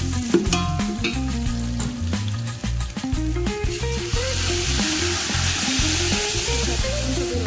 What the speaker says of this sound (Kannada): ಆಲ್ಮೋಸ್ಟ್ ಈರುಳ್ಳಿ ಎಲ್ಲ ಚೆನ್ನಾಗಿ ಫ್ರೈ ಆಗಿದೆ.